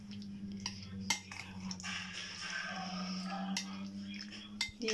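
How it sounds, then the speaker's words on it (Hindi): A spoon stirs white vinegar into a cheese-mayo paste for a veg club sandwich in a bowl, giving a few light clinks and soft scraping over a low steady hum, with a brief louder tap near the start. "इसको हम मिक्स कर लेंगे।"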